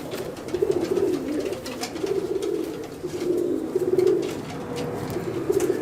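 Madrasi pigeons, a pair of prized fancy birds, cooing steadily in soft repeated low rolling phrases, close and continuous with no talking.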